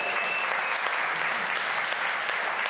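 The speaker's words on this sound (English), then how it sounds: "Give them all a round of applause." At an experience marketing awards event, the audience gives winners a round of applause: a continuous, dense wash of clapping from a large room, steady and fairly loud throughout.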